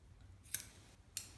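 Scissors snip through cord material for a two-color tumbler mug handle with two sharp, quiet cuts about half a second apart, heard close up in an otherwise quiet room.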